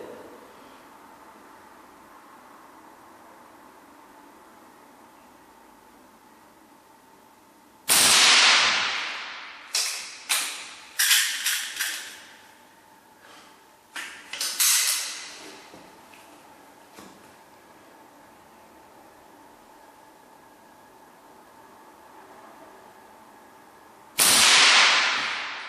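A tuned Weihrauch HW97KT air rifle fires a few sharp, loud cracks, each followed by a mechanical clatter and a quick decaying rattle, with quiet ambient hiss between shots and no talking.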